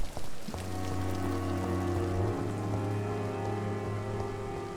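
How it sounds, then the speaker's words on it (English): Steady rain hisses over the night town streets in the game Vampyr, falling evenly and continuously beneath a sustained, tonal instrumental music bed with no voices. "It will be a long walk through the night town, the mist and rain."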